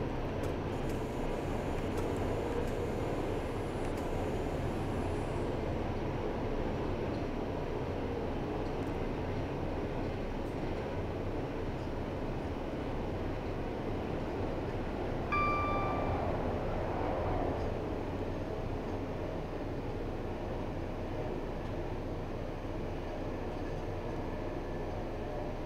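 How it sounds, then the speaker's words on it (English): A train coasting with power shut off toward Colchester on the London Liverpool Street to Norwich line in Train Simulator 2019 gives a steady, even rumble of wheels and rail noise, with a brief high tone midway and no talk. "I've now shut off the power to allow the train to coast."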